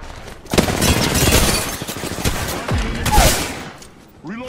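Rapid automatic gunfire in the shooter Apex Legends: loud, dense bursts of shots rattle almost continuously, with impacts and brief sharper cracks before the firing thins out at the end.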